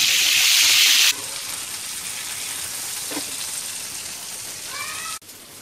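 Bombay duck (bombil) fish fries in a hot pan, loud hissing sizzle at the start that drops to a softer steady crackle and spatter, with a brief clatter near the end.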